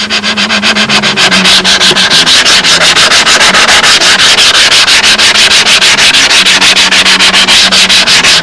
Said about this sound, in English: sand out the tissue, even if you get the wrinkles